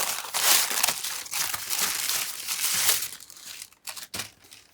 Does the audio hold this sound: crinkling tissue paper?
yes